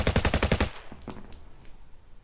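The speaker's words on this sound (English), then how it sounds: "The cultist with the machine gun is going to shoot at the last remaining jetpack orc" A machine-gun sound effect plays during a tabletop wargame, a loud rapid burst of about eight shots that stops abruptly and leaves a few faint echoing reports trailing off.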